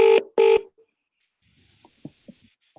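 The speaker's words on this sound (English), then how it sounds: "Let me see if Rory answers on extension 135" Two loud telephone keypad tones beep close together while dialing a PBX extension, followed by faint, quieter clicks and blips on the line.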